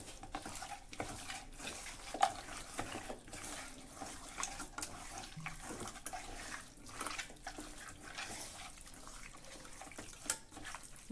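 Rice being rinsed in a pot under running water for chicken pishpash, a steady splashing wash with soft clinks and swirls throughout, moderately quiet and close, with no voices.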